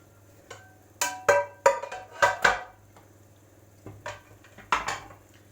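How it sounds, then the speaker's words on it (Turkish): Spoon scraping and clanking in a cooking pan while carrots are stirred, several loud uneven bursts of metal contact with short pauses, close by and without talk. "Havucumuzu karıştırıyoruz."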